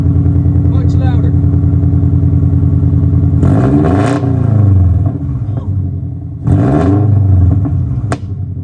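A straight-piped engine with the exhaust removed, started up and revved loudly in two long surges over a steady low rumble, with clattering harmonics close by.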